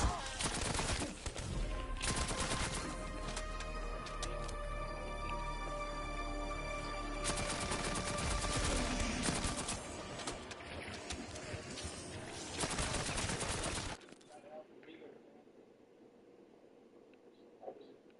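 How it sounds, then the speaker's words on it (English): Nail gun firing in Call of Duty Zombies, a long continuous stream of rapid shots mixed with game combat noise, cutting off abruptly near the end and leaving quieter background sound. "But it's a nail gun. It's not even an actual gun."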